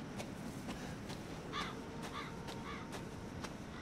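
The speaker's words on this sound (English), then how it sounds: "Oh, it's the crows." Crows caw several times in the horror game Resident Evil 7, harsh repeated calls at a moderate distance over a low, steady ambient rumble, with no speech.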